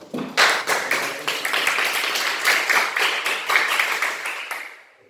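Students in a primary school classroom during a lesson on comparing fractions clap together in a quick, regular pattern of distinct group beats, fairly close and loud, with no talking over them for about five seconds.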